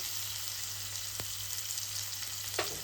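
Finely chopped tomato and onion sautéing gently in a pan, a soft, even sizzle over a low hum, with a faint tap or two from a utensil.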